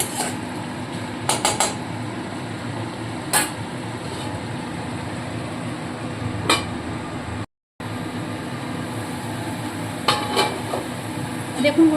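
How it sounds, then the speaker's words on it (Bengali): Spice paste stirred and fried in oil in a pot for a Bengali soybean dish, with steady scraping and clinking of a spoon against the pan over a low frying hiss, close and continuous with a brief dropout. "এবার এই মশলাটাকে খুব ভালো করে তেল যতক্ষণ না ছাড়বে ততক্ষণ কষাতে হবে"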